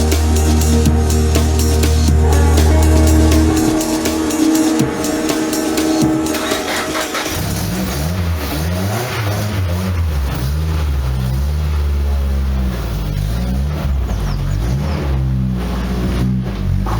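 A Nissan Sunny N13 Pulsar engine on a test drive climbs through rising revs, its note sweeping up and down through gear changes, loud and close inside the car with no talk.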